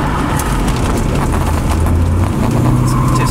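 A C3 Corvette drives through a turn, its engine a loud, steady rumble from inside the cabin that holds an even drone and shifts pitch slightly toward the end, with no talk over it.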